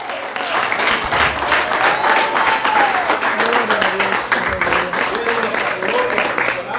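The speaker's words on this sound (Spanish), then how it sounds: "Denle un aplauso al Señor." Congregation applauding during an evangelical church service in Webster, Massachusetts: steady, dense clapping throughout, with voices and shouts mixed in over it.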